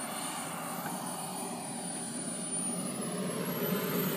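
A jumbo, super-scale RC model of a T-45 Goshawk jet produces a steady turbine roar and high whine at a flying field. The sound is moderately distant and constant, with no talking.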